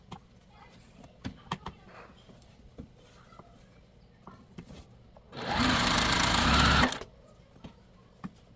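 A sewing machine chain-pieces quilt pieces, running in one steady loud burst of about a second and a half after scattered quiet handling clicks.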